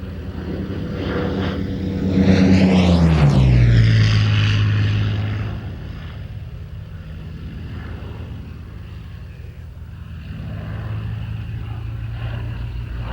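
A Spitfire's piston engine swells as the aircraft sweeps past low in an airshow display, its pitch dropping through a clear flyby before the drone fades and then rises again in the distance.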